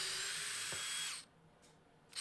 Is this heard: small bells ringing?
no